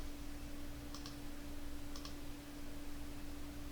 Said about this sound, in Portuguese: eu tô pressionando o Enter aqui